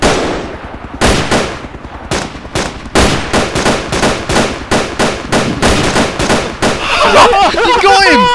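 Rapid loud bursts of close gunfire in the video game DayZ, aimed at a gyrocopter, crack out in a rhythmic string of shots with short pauses, and excited voices shout over the final seconds.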